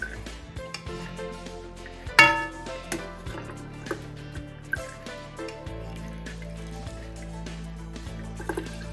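Melted ghee being ladled out of a pan into a can, with repeated metal-on-metal clinks and scrapes of the ladle against the pan and soft dripping and pouring of the liquid fat, close and moderately loud, without talk.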